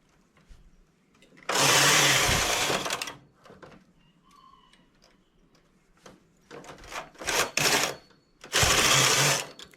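A knitting machine making a trapeze tank top with lace stitching: several loud, rushing carriage passes lasting a second or two each, separated by quieter clicks and mechanical rattles, close up.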